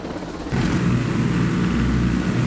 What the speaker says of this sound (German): Schnapp mir jetzt den Heli und hoffe, dass ich nicht abgeknallt werde.